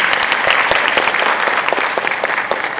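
An audience at an education admissions academy event gives a loud round of applause, close, continuous clapping with individual claps standing out, no talk over it.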